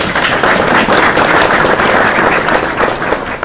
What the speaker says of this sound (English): I think each one of you earn a big applause.